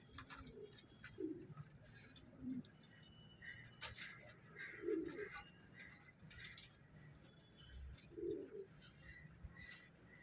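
Soft, low coos of white pigeons repeat every few seconds at a gentle distance, over faint ticking and rustling background noise.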